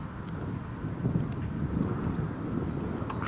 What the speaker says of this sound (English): that's the British Airways just departed